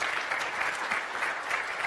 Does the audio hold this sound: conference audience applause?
yes